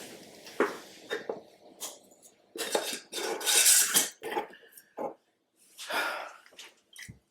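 A rinsed lid is handled and set back on a glass herbal tincture jar, with a run of close clinks, taps and scrapes in uneven bursts, then a brief pause and a final rattle, no voices.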